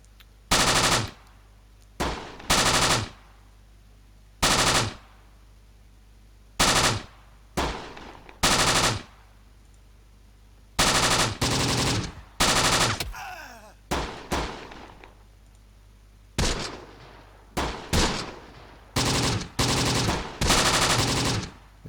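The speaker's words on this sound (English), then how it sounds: "It's just peppering us with MGs." Repeated loud bursts of machine gun fire from the Close Combat: The Bloody First war game, arriving in irregular clusters of rapid shots with brief quiet gaps between them, with no talking.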